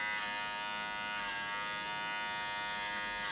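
An electric shaver buzzes steadily as it shaves hair, close up, with a constant, unbroken hum that holds at an even level throughout and has no talking over it.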